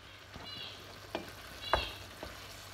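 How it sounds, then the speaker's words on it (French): Minced beef cooking in a pan, a soft low sizzle broken by a few distinct scrapes and clicks of a utensil stirring the meat, heard close up. "on remue de temps en temps, on laisse cuire"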